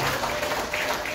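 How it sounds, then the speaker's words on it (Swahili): A church congregation applauds at a confirmation service, a steady, dense wash of clapping filling the whole moment with no clear gaps. "Basi tuwapigie makofi."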